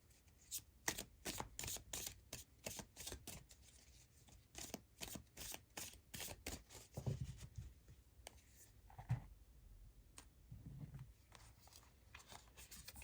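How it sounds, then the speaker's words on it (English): Oracle cards from a Radiant Sun deck being shuffled and drawn, a close, quiet run of quick riffling flicks, then slower slides and soft taps with pauses between. "Let's get some cards from the Radiant Sun to conclude your reading."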